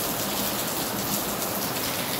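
Steady rain falls in a dense, continuous hiss, close and even with no pauses and no voices.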